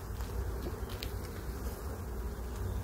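Honeybees drone in a dense, continuous buzz from an opened beehive during a honey-hive inspection, steady and close with no pauses.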